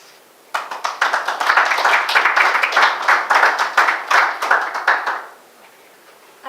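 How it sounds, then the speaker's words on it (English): Audience applause at a conference on capital markets prospects, starting abruptly after a brief quiet, holding as a dense, loud stretch of many hands clapping with sharp individual claps standing out, then fading out near the end. "to join us in your applause."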